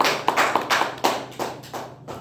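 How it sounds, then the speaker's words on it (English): A few people clap for meeting role takers at an online Toastmasters meeting, a short run of close, uneven claps over a steady low hum. "Give a round of applause to all the tag takers."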